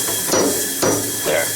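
A steel bar knocks against the drawbar of a Tormach lathe as it is loosened, giving two loud, close metallic strikes over a steady hissing machine background.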